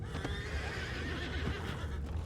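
A horse whinnies in Red Dead Redemption 2, a wavering, drawn-out call over a steady low rumble and faint hoof clatter, close and fairly loud.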